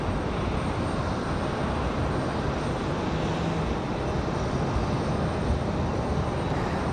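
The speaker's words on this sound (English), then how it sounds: "Looks like that American might be ready for departure." American Airlines jet, flight 3045 bound for Miami, departing from Raleigh-Durham; a steady, fairly distant engine roar holds evenly throughout with no voices.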